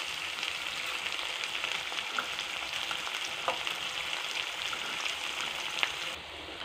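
Onions fry with rock salt in a pan for a cauliflower gravy, giving a soft, continuous sizzle with occasional faint stirring clicks and no voices.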